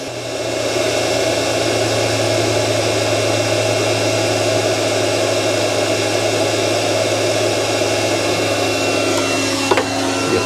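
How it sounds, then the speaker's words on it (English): A KKSevens magnetic induction heater hums continuously at close range while heating a rusted fastener, giving a steady electrical drone with a faint whine, and a few small clicks near the end. "So let's grab the induction heater, we'll get it plugged in and see if we can get that heated up and take it out."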